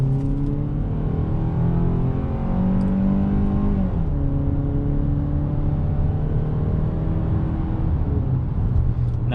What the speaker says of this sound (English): We're gonna go ahead and take this Santa Fe on the highway and see how it does.